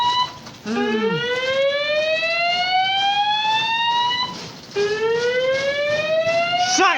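A hospital fire alarm sounds loud and close, sweeping upward in two long rising electronic tones with a brief gap between them.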